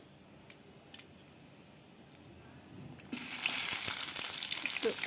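Onion and garlic dropped into generous hot oil: a few light clicks, then a sudden loud, steady sizzle of frying that keeps going to the end.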